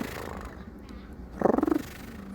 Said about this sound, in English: You could squeeze a little purr out of him